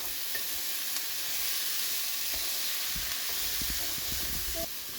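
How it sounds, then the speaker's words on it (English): Raw sausage sizzles steadily in a pan as it is stirred, a continuous close frying hiss broken by soft scraping and clicks of the utensil. "Just keep stirring it till the sausage is pretty done"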